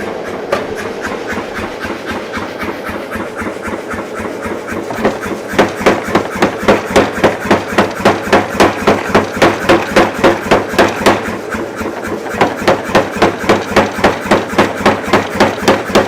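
Steady rhythmic hammer blows ring out at a forge as a layered steel billet is worked, sharp metallic strikes repeating evenly and growing louder partway through.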